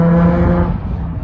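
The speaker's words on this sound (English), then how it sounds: "someone's mowing their lawn" A lawn mower engine near a Las Vegas golf course drones with a steady low hum that fades slightly over a second.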